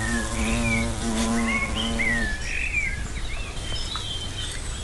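A hornet feeding on Cotoneaster flowers near its nest, its buzz held close amid steady outdoor noise, with birds chirping and calling throughout.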